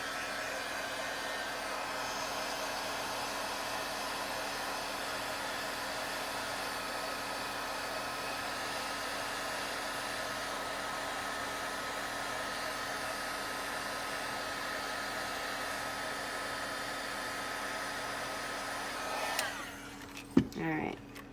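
A heat tool blows steadily for about twenty seconds while embossing powder is melted on a handmade Christmas card, a constant close whirring roar that cuts off near the end with a few handling knocks.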